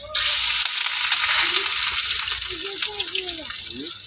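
Garlic sizzles hard in hot oil in a wok that already holds dried red chilies, a loud, steady hiss starting abruptly and continuing throughout while a voice talks softly beneath it.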